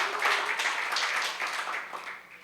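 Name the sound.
church congregation applauding the worship ministry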